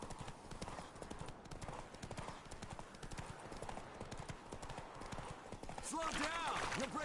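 Horse hooves clip-clop in a steady rhythm as a rider travels in The Witcher 3: Wild Hunt, with a faint whinny near the end.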